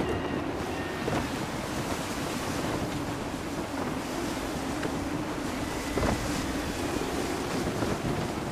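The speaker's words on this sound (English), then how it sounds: "Gusty winds can be difficult to manage." Gusty wind and breaking waves roar at sea aboard a sailing ship in the video game Assassin's Creed 3, a constant, loud broadband rush with occasional surf swells and creaks, no speech.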